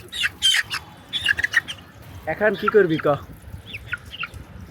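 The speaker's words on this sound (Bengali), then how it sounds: "দুষ্টু মুরগি, তোমাকে আমি ধরতে পারবো না।" A chicken squawks and clucks in short, close bursts, with a person talking over and between the calls.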